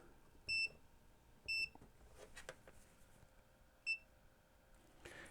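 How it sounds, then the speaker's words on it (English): A multimeter testing a Sony TC-270 reel-to-reel deck gives three short, high electronic beeps, two close together and one later, fairly quiet over a faint background hum. "if it's shorted, we'll hear a beep followed by silence"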